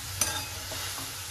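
Fenugreek leaves being stirred and sautéed in a pan for methi bhaji, with a single scrape of the spatula followed by a soft, steady sizzle, near and moderately quiet.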